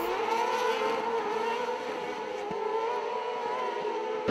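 Race cars at an FIA motorsport event, heard as a continuous, fairly loud whirring engine whine with layered tones that rises and falls slightly, with no talking.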